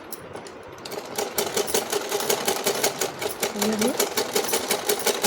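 A sewing machine stitching sleeves runs in a steady rapid rhythm through most of the clip, close and fairly loud, with someone speaking briefly over it.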